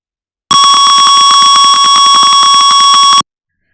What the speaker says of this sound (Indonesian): Dari 60 ke atas, maka buzzer akan berbunyi karena suhu semakin tinggi.